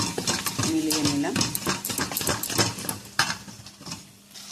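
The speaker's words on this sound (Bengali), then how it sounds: "এবার একটু নাড়াচাড়া দিয়ে মিলিয়ে নিলাম।" Mustard and chili powder paste mixed with a little water in a bowl, a spoon scraping and clinking in quick, uneven strokes close by, with a brief ringing tap partway through.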